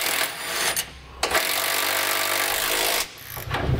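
Nuts on a rear anti-sway bar of a 2015 Ford F-53 are run down with a 3/4 inch socket and wrench, making loud, close, continuous grinding bursts broken by two short pauses.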